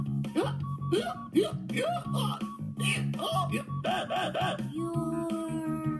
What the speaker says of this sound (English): wish we could make Rooney's hiccups disappear